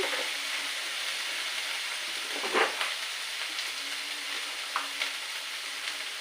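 Food fries in a pan with a steady, even hiss of oil, broken by a couple of soft spatula scrapes, fairly quiet and without any talking.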